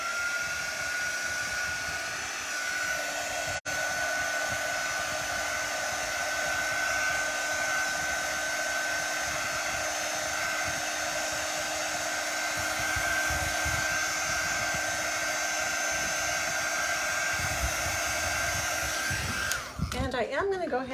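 A hair dryer runs steadily and loudly, drying chalk paste on a stencil for a glow-in-the-dark ghost craft, a continuous whirring drone that cuts off near the end.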